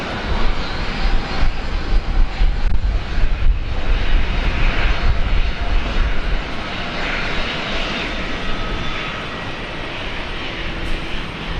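A China Southern airliner landing at Brisbane Airport, a loud continuous engine roar that holds strong throughout and eases slightly toward the end, heard alone without voices.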